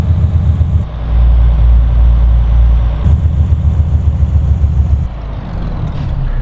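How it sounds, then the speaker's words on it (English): Renault Premium 380 truck with a 12-speed gearbox in a driving simulator, its engine droning low and steady while the exhaust brake adds a soft, repeated fluffing pulse. "That weird little fluffing noise you can hear, that's the exhaust brake"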